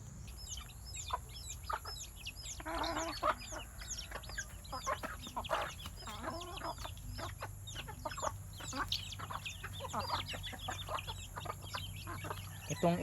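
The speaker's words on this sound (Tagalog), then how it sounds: "Itong inahin na ito" Chickens cluck softly and steadily, a scatter of short repeated clucks and chirps over a low, constant background hum.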